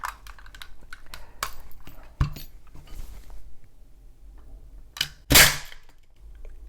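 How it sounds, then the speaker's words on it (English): A homemade Nerf gel ball grenade toy bursts with a sharp crack and a brief scattering spray, after a series of small snapping pops and clicks, all fairly close with no speech. "You can set them off and watch them explode, put a bunch of stuff in them, and I guess that's a Nerf grenade."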